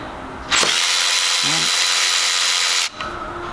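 A Milwaukee 1/4-inch extended reach cordless ratchet loosens a bolt, a loud close motor whine lasting a little over two seconds that starts and stops abruptly.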